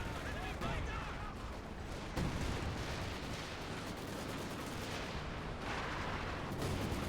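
Rocket artillery barrage in the World War II strategy game Company of Heroes 2 during a 4v4 match, a dense continuous roar of rumbling blasts and crackling fire, with stronger impacts near 2 and 7 seconds, under game commentary.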